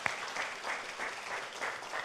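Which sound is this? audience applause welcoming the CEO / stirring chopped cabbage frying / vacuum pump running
audience applause welcoming the CEO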